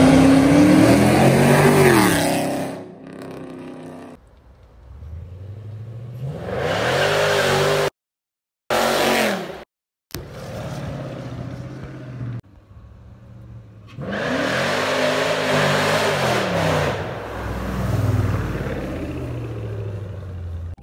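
A car with a 5.7 Hemi engine and an aftermarket exhaust revs in several loud, deep bursts. Each rev swells and falls away, with short silent gaps and idle stretches between them.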